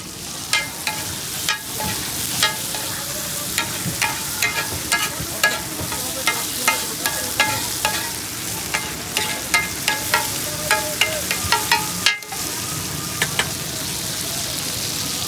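Kebab masala with garam masala, ginger, garlic and onion fries on a street-side stove, a steady loud sizzle with frequent sharp spatters and stirring clicks throughout, close up with no talking.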